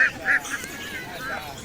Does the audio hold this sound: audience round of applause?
no